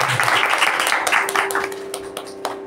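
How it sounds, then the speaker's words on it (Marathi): Audience applause at a public function, a steady spread of hand claps filling the room and holding for a few seconds with a sustained tone running underneath. "एकदा जोरदार टाळ्या"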